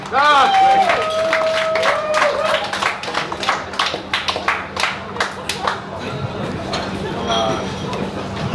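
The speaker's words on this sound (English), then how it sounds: "Let's do the old round of applause all the way around." An audience claps and cheers as a comedian is welcomed onto a stage at a live comedy show, with loud, dense applause at first that thins into scattered claps and crowd murmur, plus an amplified voice at the start.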